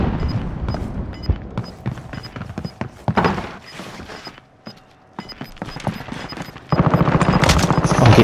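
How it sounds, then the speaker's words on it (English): Gunfire in Call of Duty: Modern Warfare, with repeated close shots, bursts and heavy thuds in irregular clusters that swell into a loud, dense barrage near the end, with no voices over it. "I'm getting shot in the back."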